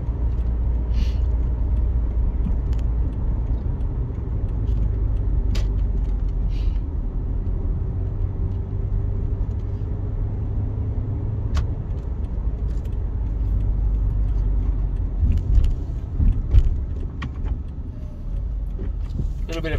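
A car on a driving lesson running around the block, its steady low engine rumble and road noise continuous throughout, with faint clicks and rattles inside the cabin and people talking over it.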